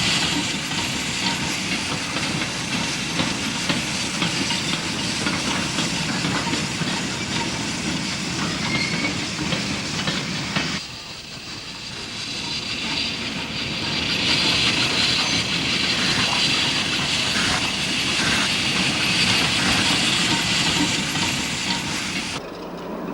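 Engerth-type mogul narrow gauge steam locomotive No. 17 in Spain works a train northbound, steady chuffing and hissing steam with rolling wheel clatter, briefly dipping midway before resuming close and continuous.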